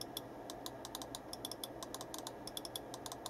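Side buttons on a Speedlink Kudos Z-9 gaming mouse are clicked in quick succession, a run of faint, crisp, close-up ticks against a quiet background.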